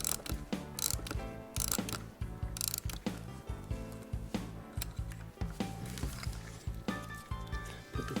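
A mid-century cut crystal boudoir clock being wound by hand, giving a close, steady run of ratcheting clicks with a few louder knocks from handling along the way.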